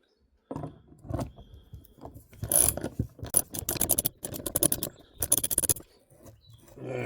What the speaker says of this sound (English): Get it over the bit of rough thread. It coped with that quite well. And it screws down.